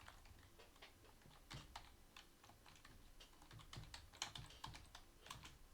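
Computer keyboard typing while entering a search for Demon Tools Lite, with irregular quick keystroke clicks in uneven bursts, fairly close and quiet, with no talking.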